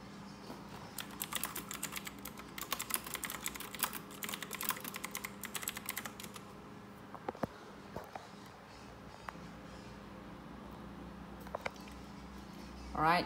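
Quick, busy clatter of computer keyboard typing fills the first six seconds, then thins to a few scattered key taps over a quiet, faintly humming room.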